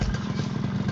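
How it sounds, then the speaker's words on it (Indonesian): A 2006 Yamaha RX King two-stroke motorcycle idles close by just after starting, a loud, rough, pulsing engine drone that fills the short moment with no voices. "kita akan coba hidupkan motornya"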